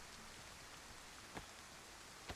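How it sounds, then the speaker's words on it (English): Steady rain in the video game DayZ hisses and patters continuously, with a couple of louder drops standing out, and no voices. "I know the rain's super loud"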